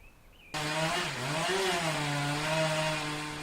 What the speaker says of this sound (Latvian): Lika zāģēt koku.